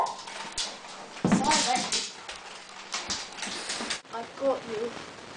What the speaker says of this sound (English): Send out the dogs.